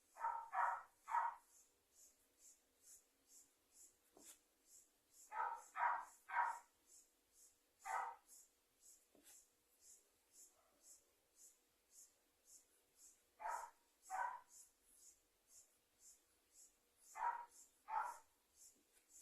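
Neighborhood dogs in a village bark in quick bursts of two or three, spaced through the stretch with quiet gaps between, moderately distant, alongside faint scratching or brushing sounds.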